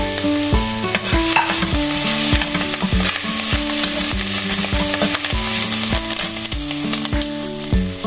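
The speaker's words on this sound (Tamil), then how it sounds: "இப்போ வந்து கொத்தமல்லி, கருவேப்பிலை, பச்சை மிளகாய் எல்லாம் சேர்த்துக்கலாம்." Onions, coriander, curry leaves and green chillies sauté in a hot pan with a steady, loud sizzle, and a spoon scrapes and stirs in repeated strokes throughout.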